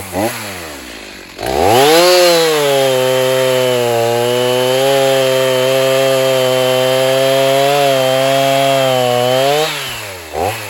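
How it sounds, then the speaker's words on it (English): A chainsaw cuts firewood, revving up loudly after a brief idle and holding a strong, steady buzzing drone through the cut before easing off near the end, close and with no talking. "So I'm just gonna spend the rest of the day sawing this up."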